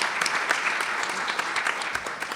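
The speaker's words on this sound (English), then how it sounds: "Clap for that." A conference audience claps together in sustained applause, a dense, even patter of many hands close to the room mic.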